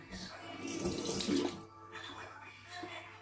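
Tap water runs steadily while a Foreo Luna 4 plus facial cleansing device is rinsed at a sink, splashing louder in the first moments before settling into a softer, continuous flow.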